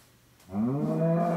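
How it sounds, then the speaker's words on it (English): A video game cow gives a single drawn-out moo, loud and close, rising out of near silence and holding steady to the end. "And a cow."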